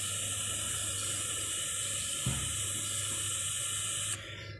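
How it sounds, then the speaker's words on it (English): Steady hiss of water running from a garden hose as plants are watered, a continuous spray held close with one brief thump midway and the flow cutting off near the end. "turn their hose on, let's water our plants."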